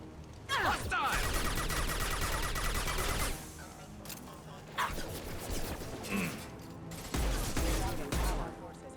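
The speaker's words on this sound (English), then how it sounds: "Firing a high-impact shot!" Bursts of gunfire from a third-person shooter battle in Mass Effect Legendary Edition, loud volleys in dense stretches broken by short gaps, with game voices calling out over the shooting.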